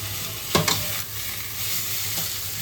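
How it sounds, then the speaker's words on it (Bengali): Potato cooked with chilli powder, salt and spices keeps up a steady close sizzle as it is stir-fried, with a couple of quick spatula scrapes against the pan. "মশলা সহ আলুটাকে কিন্তু খুব ভালোভাবে কষাতে হবে।"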